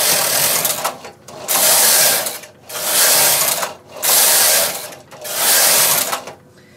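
A knitting machine carriage is pushed back and forth across the bed knitting rows, giving five loud mechanical whirring passes, each about a second long, separated by brief pauses.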